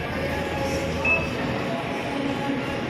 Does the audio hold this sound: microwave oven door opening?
no